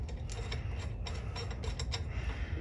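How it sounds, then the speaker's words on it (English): Steady mechanical ratcheting and clicking as motors are bolted tight onto a two-axis motion simulator test rig, a continuous close rattle of tool clicks with no talking. "I just need to bolt these things on tight"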